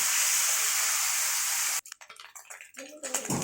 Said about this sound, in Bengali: এটা একটু লাল করে ভেজে নিতে হবে মাছটা।